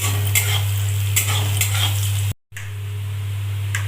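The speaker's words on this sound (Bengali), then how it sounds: "এক চামচ চিনি দিয়ে দেব ভালো করে নেড়ে নিচ্ছি" Sugar is stirred into frying Katla fish kalia in village-style Bengali cooking, with a continuous sizzle and periodic scrapes of a spoon against the pan. A low steady hum runs underneath, and the sound drops out briefly midway.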